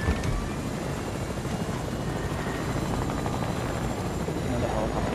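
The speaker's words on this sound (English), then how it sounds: "Another helicopter." Helicopter flying in the Fortnite video game, a loud, continuous rotor and engine roar that stays close and steady throughout, with no break in the noise.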